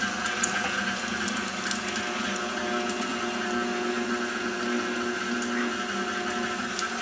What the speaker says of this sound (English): So we just got the grinder on about a number 4 there.